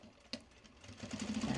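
A sewing machine bastes seams with a larger seam allowance, starting with a single click and then building into a short, close mechanical whir.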